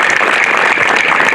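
A crowd at a cricket premier league event in Jodhpur breaks into loud, dense applause for a sponsor, a steady wash of clapping with no voices over it.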